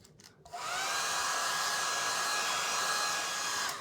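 A hair dryer clicks on and blows a steady, loud whirring stream of air to dry paint on a canvas bag, holding an even tone for a few seconds after a brief handling noise.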